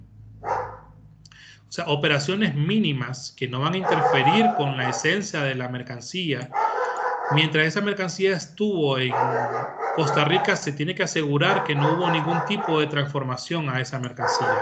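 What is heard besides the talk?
neighbor's dog barking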